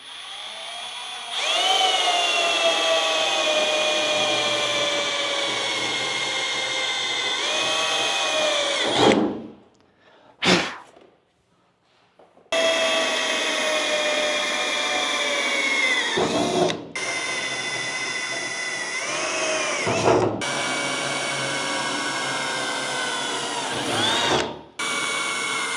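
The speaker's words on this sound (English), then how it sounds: "I'm going to go ahead and drill all these to 1/4 inch." A power drill with a 1/4 inch bit boring holes in C10 pickup cab trim, a loud steady whine running for long stretches, with brief pauses between holes and slight pitch drops under load.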